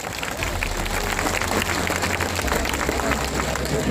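A crowd at a political rally claps loudly to welcome young supporters arriving on motorcycles, a dense sustained round of applause with a low rumble and a voice faintly underneath.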